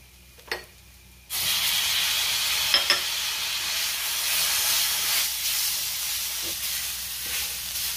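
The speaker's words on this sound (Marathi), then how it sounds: "मी 2 मिनिटं लसूण व्यवस्थित परतून घेतलाय, त्यातच मी खोबरं घातलंय आणि त्यातच आपल्याला टोमॅटोही घालायचा आहे।" Garlic, grated coconut and tomato sauté in a hot pan for a spicy chilli kharda, a steady loud sizzle and hiss starting abruptly after a brief knock and running on with a few faint stirring clinks.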